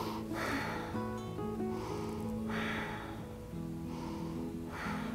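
Deep yoga breaths drawn in audibly through the nose, about three long airy inhales spaced a second or two apart, close to the microphone over soft background music.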